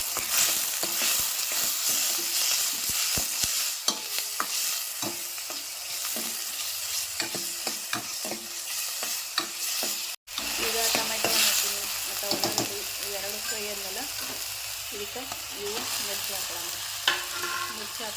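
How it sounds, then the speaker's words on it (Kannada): Onions frying to golden in a pan with oil, a loud, continuous close sizzle and crackle with frequent spatula scrapes and stirring knocks throughout. "ಉಳ್ಳಾಗಡ್ಡಿ ಸ್ವಲ್ಪ ಗೋಲ್ಡನ್ ಕಲರ್ ಫ್ರೈ ಇದಾವ್ರಿ"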